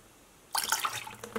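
White vinegar splashes into a pot of water in a dye bath, starting abruptly as a short, close, bubbling pour with no talk.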